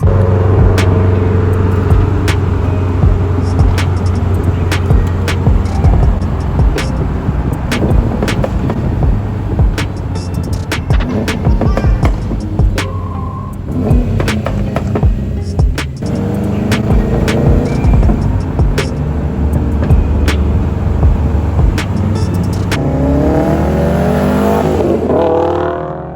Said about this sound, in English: Let's do some pulls and let's see what the car feels like with the new